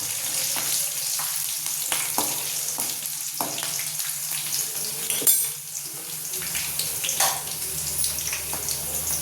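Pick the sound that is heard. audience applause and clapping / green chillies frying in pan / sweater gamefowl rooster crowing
green chillies frying in pan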